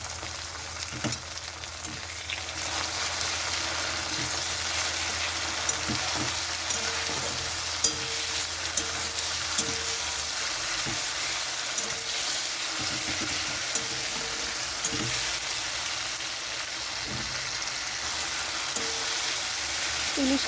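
Salted, turmeric-rubbed hilsa fish fat sizzles loudly in a pan with lightly fried onion, a dense continuous frying hiss broken by repeated scraping stirs and occasional pops, close and clear.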